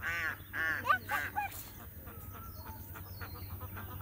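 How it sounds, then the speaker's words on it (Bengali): A group of ducks nearby gives several loud, honking quacks in quick succession, then fainter calls trail off. "ওই হাঁসগুলো আমাকে ডাকছে"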